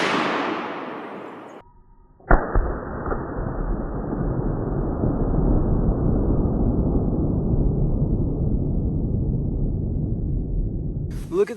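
A 7.62x39 rifle fires a single shot into a neck protector. An earlier noise fades out, then one sharp, loud crack is followed by a long, sustained rushing wash of sound.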